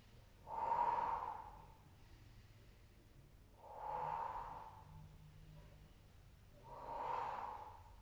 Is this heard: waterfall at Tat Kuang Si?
no